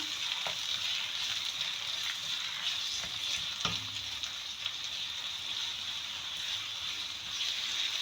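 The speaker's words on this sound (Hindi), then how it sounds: "और ये प्याज, इसको अच्छे से फ्राई करती हूँ।" Chopped onions fry in a hot pan with a steady, dense sizzle that holds at an even level throughout, broken by an occasional light clink of stirring.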